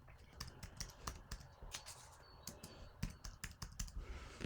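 Fingers tap out a query on a computer keyboard, making a quick irregular run of close, crisp clicks over faint room hiss.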